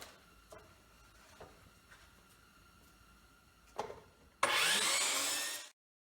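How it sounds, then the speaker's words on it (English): A miter saw making a straight cut through a wooden board in a garage, with a few light knocks, then a loud, steady whine lasting just over a second that cuts off abruptly. "We're just going to cut them straight on the miter saw."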